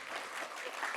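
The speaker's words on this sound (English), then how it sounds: "Maybe just give him a round of applause again." Audience applause at a corporate investor presentation, a steady, dense clapping from a crowd that fills the whole moment at even loudness.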